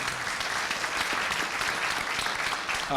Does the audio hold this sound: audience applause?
yes